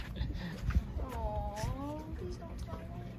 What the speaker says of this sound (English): Hi, cat. There's the cat. There's the cat.